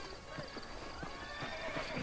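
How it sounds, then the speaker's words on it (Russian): In the Xbox 360 video game Red Dead Redemption, a horse gallops with steady rhythmic clip-clop hoofbeats and lets out a neigh, all over a constant background ambience. "побыть ковбоем и поскакать на лошадях."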